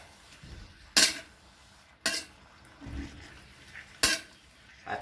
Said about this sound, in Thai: ผัดไปเรื่อยนะครับ ใช้ไฟที่แรงที่สุดนะครับ